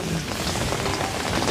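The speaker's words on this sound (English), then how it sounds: "People, rain for days." Steady rain pours down outdoors, a dense hiss of drops hitting surfaces with no break, heard alone at moderate volume.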